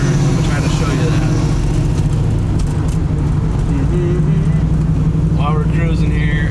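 A 1969 Chevrolet Camaro RS on wider, thinner-sidewall tires takes a turn, its engine a loud, steady low drone heard from inside the car.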